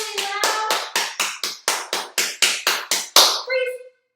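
About a dozen loud, evenly spaced hand claps, close by and roughly two to three per second, made to imitate heavy rain for a kindergarten lesson on hurricanes, with a short vocal sound at the end.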